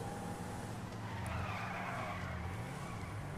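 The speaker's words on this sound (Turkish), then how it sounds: "Bak dönüş dediğim böyle olur abi. Twingo böyle döner." A Renault Twingo skids through a turn in GTA 5, a sustained tire screech layered over a droning engine whose pitch shifts, loud and continuous across the short stretch.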